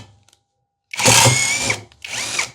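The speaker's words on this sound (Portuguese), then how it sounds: "vamos ver aqui a chave de impacto, como que ela se sai nesse tipo de situação." A Hanabi LJ2022 impact wrench spins a screw out at high speed. Two close whirring bursts are heard: a long one and then a shorter one, each with a shifting pitch, after a near-silent start.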